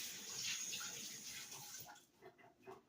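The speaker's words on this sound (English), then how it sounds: "Let me wash off the knife." Running tap water splashes over a kitchen knife at a sink while hard-boiled eggs are prepared for potato salad, a steady hiss that fades toward the end, leaving a few scattered drips and clinks.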